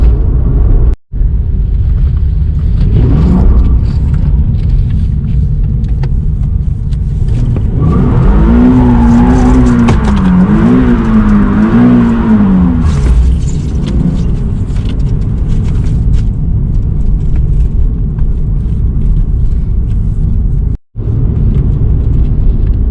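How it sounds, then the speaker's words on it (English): Nissan 370Z base coupe doing donuts: a loud, close engine holds a steady drone that swells into a wavering, rising-and-falling rev as the car circles, then settles back to a rumble, with no talk. "we're going to do the donut test. We'll see how well she does donuts"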